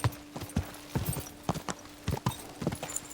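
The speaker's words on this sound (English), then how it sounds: "Now, Horsey Who, I need you to stay right here." Horse hooves clip-clop at a steady walking pace in Kingdom Come: Deliverance II, each hoof strike sharp and close, alone without talk.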